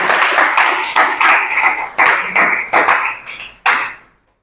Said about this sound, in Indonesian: Oke, tepuk tangannya untuk kelompok skrip.